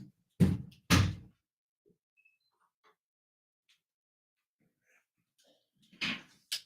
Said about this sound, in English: I'm just closing the doors